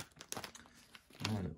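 Plastic packaging crinkles and tears up close as a fishing lure is unwrapped, with a brief louder rustle near the end.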